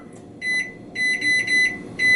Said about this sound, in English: So I'm setting a timer for that